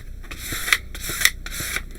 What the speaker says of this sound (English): moving on to the Helen squeegee, we're just going to push all that down.